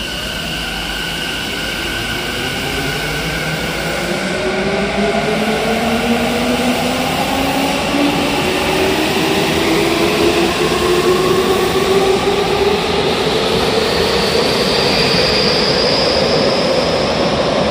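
A Tokyo Metro train pulls into Senkawa Station on the Yurakucho and Fukutoshin lines, a steady loud rumble with rising and falling motor whine building through the whole stretch as it nears the platform.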